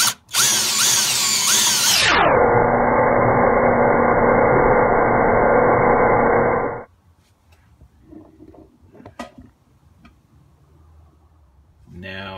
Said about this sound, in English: Going to drill